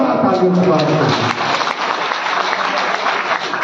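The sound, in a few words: applause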